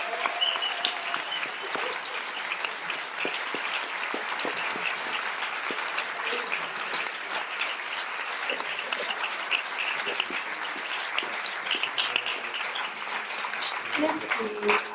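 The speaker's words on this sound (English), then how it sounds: "Je vous demande d'applaudir" An audience at a film festival screening claps in sustained, even applause that fills the room throughout, with scattered sharper claps and faint voices beneath.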